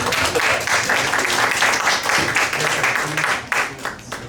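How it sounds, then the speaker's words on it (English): A dense, steady wash of audience applause fills a candidate forum hall in Portland in 2019, loud and sustained throughout with a slight dip near the end. "we will give a heartfelt applause to the candidates."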